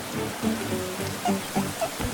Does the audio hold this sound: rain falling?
yes